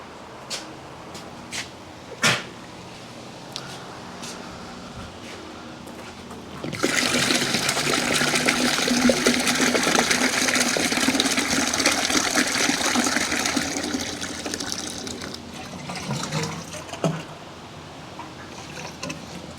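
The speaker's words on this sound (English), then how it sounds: "now we're going to pour out the metal rescue from the tank" Metal Rescue rust remover pours out of a motorcycle fuel tank in a steady, loud gushing stream lasting several seconds, then tapering to trickles and drips, with clanks of handling before and after.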